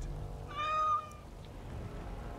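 One drawn-out cat meow from the game Dragon Age: Origins - Awakening, a clear rising-and-falling tonal cry lasting about half a second over a low steady background hum, with no talking.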